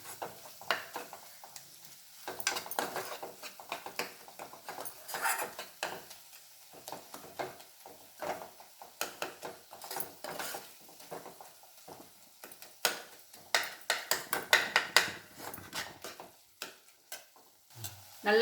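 Tomato thokku with chili powder sautés in a pan, soft sizzling broken by repeated spatula scrapes and clatters against the pan at an uneven pace, close and fairly quiet.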